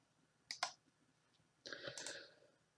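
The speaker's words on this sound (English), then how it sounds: "I can also select these from the graphics display by hovering my mouse over it and right-clicking." A computer mouse clicks twice in quick succession up close, followed after a pause by a longer burst of clicking and rattling, all faint and with no talk.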